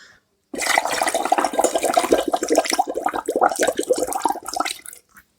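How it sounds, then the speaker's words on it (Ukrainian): Air blown through a straw into water makes a loud, close, continuous burbling of bubbles for several seconds, stopping abruptly at the end. "Ми занурюємо її в водичку і добре-добре дмухаємо."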